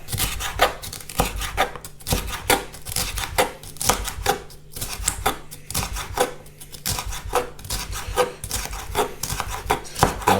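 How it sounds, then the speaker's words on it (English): A knife slices peppers into thin strips on a cutting board for a garlic tomato sauce with poached fish, giving a close, steady run of crisp chopping taps with no talking. "slice our pepper up into thin slices, just like that."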